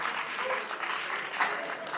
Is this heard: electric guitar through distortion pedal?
no